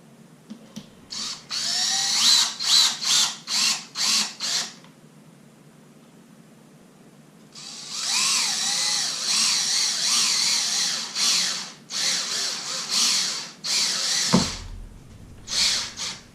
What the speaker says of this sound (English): while I'm screwing the screws through the drywall and into the sides of the plywood